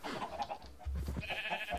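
Sheep bleat in a modded Minecraft-style farming game, with several short wavering cries close by in quick succession over a low rumbling background.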